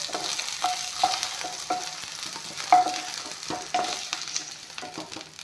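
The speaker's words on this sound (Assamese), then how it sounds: "এয়া ভেন্দিখিনি ভাজি ল'লোঁ।" Plain okra frying in a pan, with a continuous hot sizzle and regular rhythmic scrapes of stirring throughout, close up and free of voices.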